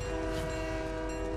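A train passes in the Fortnite video game, sounding a loud, sustained chord-like horn over a heavy, steady rumble that fills the whole moment.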